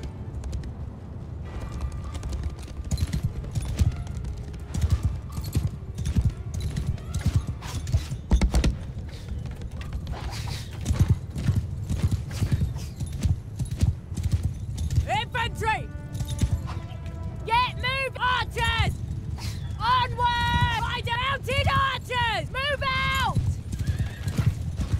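Horses in battle in Mount & Blade 2: Bannerlord, rhythmic clip-clop hoofbeats running throughout with several sharp neighs and whinnies in the latter half, mixed with shouted voices and creaking gear.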